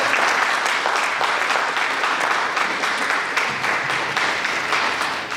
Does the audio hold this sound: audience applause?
yes